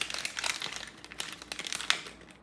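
A crinkly plastic LEGO minifigure packet is handled and crumpled up close while being opened, giving dense, continuous rustling and crackling with no talk.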